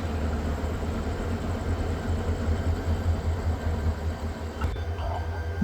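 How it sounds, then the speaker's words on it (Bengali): A train locomotive engine arriving at a station in Bangladesh, a steady low diesel rumble with a faint clank near the end, heard close and fairly loud with no talk. "এই যে আমাদের ট্রেনের ইঞ্জিন চলে এসেছে"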